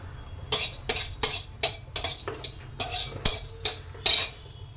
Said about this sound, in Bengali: এই দুটোকে খোলাই একটু আমি এই করে নেব, নেড়ে চেড়ে নেব শুকনো খোলাই